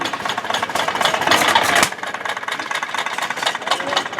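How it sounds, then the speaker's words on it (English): Antique hit-and-miss engines running at a fair display, a steady rhythmic chugging and rattling with occasional sharp pops, busy and fairly close, with a brief louder burst early on before settling. "they got some hit and miss engines in here. You can hear them running and backfiring."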